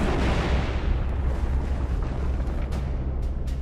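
A heavy bomb blast roars in a deep, loud rumble that fills the space and rolls on without a break, slowly fading with scattered crackles toward the end.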